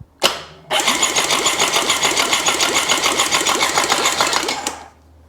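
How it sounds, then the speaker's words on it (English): Supercharged 4-stroke engine of a 2003 Seadoo GTX 4tec cranking over: a short starter blip, a pause, then about four seconds of rapid, even, loud mechanical chugging from the starter that stops abruptly, close up with no voices. "let's just see if it does a quick crank over without nasties"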